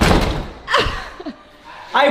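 A door slams shut with a loud thud in a house during a hurried bird rescue, one sharp hit with raised voices shouting around it.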